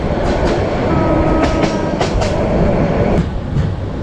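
A train on the Dhaka to Cox's Bazar line runs between hills with a loud, steady rumble and clattering wheels, faint squeals and periodic rail clicks throughout.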